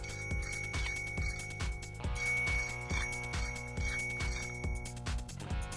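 A bicycle bell rings in quick repeated dings against a steady, rhythmic musical backing, with its bright metallic tone recurring throughout and fairly prominent in the mix.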